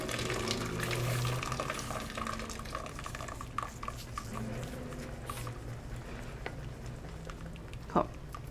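Hot cooking water draining from a pan through a strainer, a continuous splashing pour with some drips and a sharp clank near the end, under light talk.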